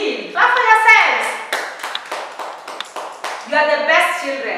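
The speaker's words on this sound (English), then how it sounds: "Clap for yourselves." Young children in a pre-primary classroom clap for themselves after a counting lesson, a burst of small hand claps mixed with a teacher's and children's voices, close and lively.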